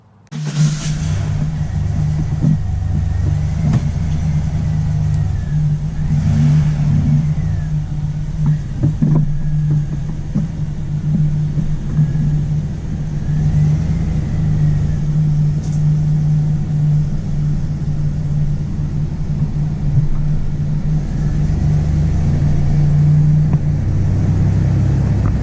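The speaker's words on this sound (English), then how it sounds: "So I haven't drove this truck in several months now, so I'm gonna take it for a spin down the street." Pickup truck driving down a street after sitting unused for several months, a steady close low engine rumble and road noise continuing throughout with slight swells as it accelerates.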